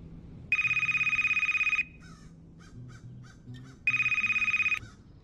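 Two bursts of an electronic phone ringtone, each about a second long with a steady trilling pulse, come from a phone in the PC adventure game Gray Skies, Dark Waters, separated by quieter background sounds.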